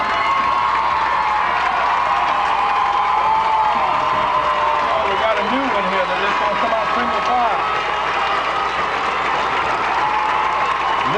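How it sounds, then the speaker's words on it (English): A high school football crowd cheers and claps loudly at a 1994 game, a dense sustained roar with shouts, and a commentator's voice comes through over it. "Listen to this crowd."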